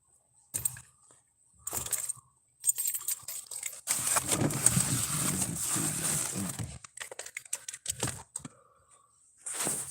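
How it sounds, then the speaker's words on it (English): Bunch of keys jingling and clinking as someone rummages for the right one, coming in short bursts with a longer, steady rattle in the middle, close and moderately loud amid quiet gaps. "Now all I gotta do is find my actual key."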